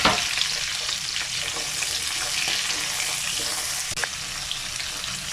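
Garlic, capsicum and onion frying in oil for chicken manchurian, a continuous bright sizzle close by with faint stirring and a brief clink near the end.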